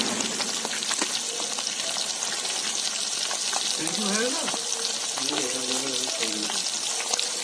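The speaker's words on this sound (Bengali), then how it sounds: "মাছ ভাজা চলছে আমাদের" Fish frying in oil over an outdoor wood fire makes a constant, crackling sizzle, while voices talk over it partway through and the frying carries on underneath.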